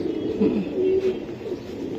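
Pigeon cooing softly and steadily at close range, a low droning coo over a constant background hum, without any talk.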